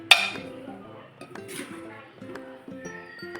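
A lid is set onto a container holding a homemade amla and beetroot mouth freshener, giving a sharp clink followed by several lighter metallic taps and rattles, close by in a quiet room.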